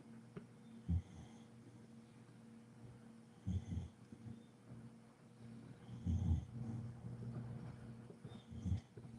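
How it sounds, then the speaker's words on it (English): Loud snoring from a sleeping person, several rough snorting breaths at irregular intervals over a low steady hum, fairly close and with no talking. "Snoring like you're crazy."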